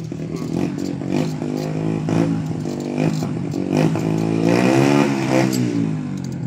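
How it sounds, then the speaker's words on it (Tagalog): A BMW motorcycle engine being revved repeatedly, the pitch rising and falling in throaty surges with some mechanical clatter, loud and close throughout. "Binubumba niya yung BMW niya."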